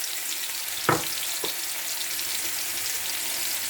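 Garlic sizzles steadily in extra virgin olive oil for a paella, a close continuous frying hiss with a couple of short clinks of a utensil early on.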